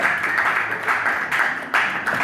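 A small group of people claps in short, uneven bursts, with the loudest smacks landing near the end.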